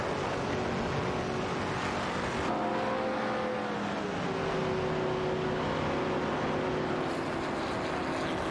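Race cars in an AI racing video game roar steadily at close range, engine tones rising and shifting as the cars push for position, with a continuous loud engine drone and no talk.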